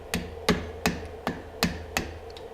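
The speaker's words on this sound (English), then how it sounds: "So I'm going to take the plastic end of my hammer," The plastic end of a hammer strikes an AR-15 receiver pin six times in a steady rhythm, each tap a sharp, close knock with nothing else audible.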